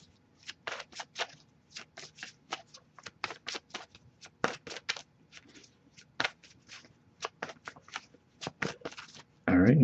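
Repeated riffle shuffles of a deck of tarot cards during a reading, quick crisp bursts coming one after another with brief pauses, close and fairly clear.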